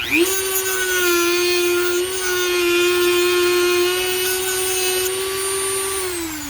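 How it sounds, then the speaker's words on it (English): A Dremel rotary tool with a cutter bit grinds down a shaft during a Honda CRX climate control conversion, giving a loud, steady, high-pitched motor whine that holds constant for several seconds and then tapers slightly at the end. "So you go ahead and use your cutter to kind of make that more precise."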